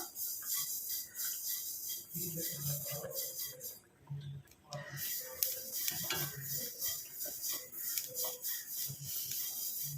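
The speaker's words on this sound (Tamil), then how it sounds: "இப்போ இதை நல்லா நம்ம ஃப்ரை பண்ணி எடுக்க போகிறோம்" Hair dye powder ingredients fry in a dry pan while being stirred, giving repeated scraping and rubbing strokes, a faint crackle and light clinks at close range.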